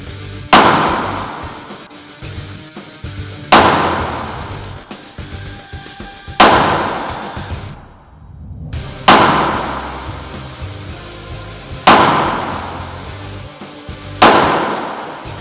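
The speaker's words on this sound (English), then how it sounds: "We will continuously shoot 6 rounds of ammunition." Six loud, evenly spaced pistol shots from a handgun similar to the Russian TT, each a sharp bang with a long ringing decay, fired at roughly three-second intervals with no talk.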